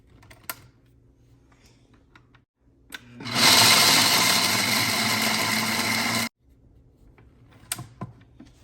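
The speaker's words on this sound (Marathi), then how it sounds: "तर आधी आपण शेंगदाणे वाटून घेऊया" A kitchen mixer grinder grinds shelled peanuts in one loud, steady burst of about three seconds, which starts abruptly and cuts off sharply, with quiet, faint clatter before and after.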